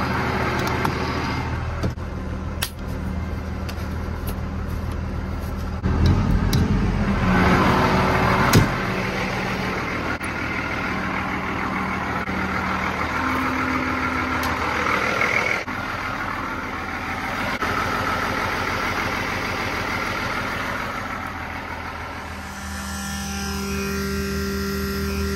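A truck engine idles steadily with a low, continuous rumble, fairly close and alone, with a few brief clanks and a short surge midway as the crew readies to drive off.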